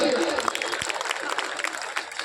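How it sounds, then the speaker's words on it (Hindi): An audience at a Hindi comic poetry gathering claps in a brief, lively burst of scattered hand claps, with a voice heard briefly over it. "ताली जोरदार बनती है"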